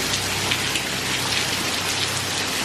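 Steady rain falls and patters on a surface nearby, a dense, even hiss that continues unbroken with no voices.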